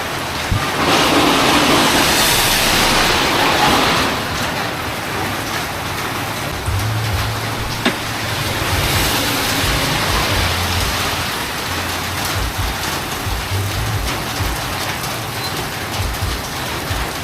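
Heavy rain pours down on a motorcycle rider in a dense, steady hiss, loud and continuous, with a low rumble underneath at times.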